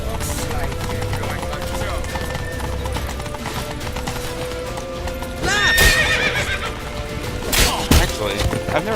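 Galloping hooves clip-clop in a rapid rhythm in The Witcher 3 video game, with a horse neighing loudly twice near the end over a busy background of game music and effects.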